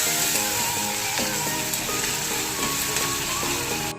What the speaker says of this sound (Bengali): পেঁয়াজটা হালকা ভাজা ভাজা হয়ে গেছে, এবার আমি এর মধ্যে টমেটো কুচি দিয়ে দেবো